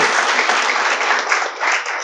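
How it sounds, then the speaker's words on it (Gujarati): Loud, sustained audience applause fills a hall, a dense continuous wash of many hands clapping together at steady strength for about two seconds. "જોરદાર તાળી બજાવી."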